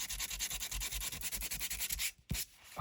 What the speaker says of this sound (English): I'm wondering how this is going to sand.